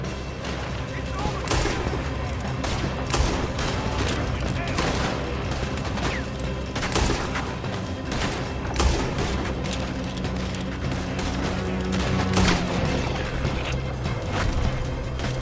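Heavy gunfire in a Red Dead Redemption 2 shootout, dense rapid shots and crashes continuing without pause, loud and close, with game characters shouting over the battle.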